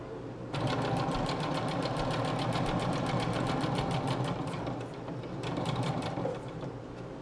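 A sewing machine stitches a hammock bug net, its fast, even needle chatter running almost nonstop and loud up close, with a short pause near the end before the stitching resumes.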